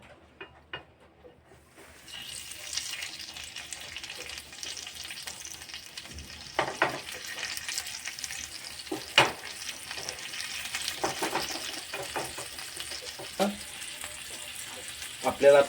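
Fish fillet coated in halwa masala fries on a hot tawa over a slow-to-medium flame, a steady close sizzle that starts after a quiet moment and continues with occasional sharper crackles and pops.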